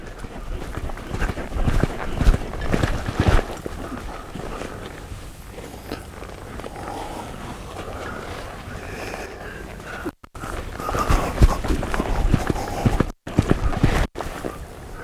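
Horse loping under a rider during stop training: a continuous rhythmic drumming of hoofbeats that rises, eases off, then picks up again, heard outdoors at moderate distance.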